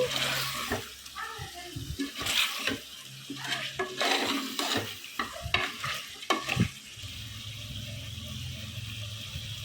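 Camel meat being stirred with cumin powder and turmeric in a pan, a spoon scraping and shuffling in irregular bursts over a soft frying sizzle, close and fairly loud before settling into a steady hiss.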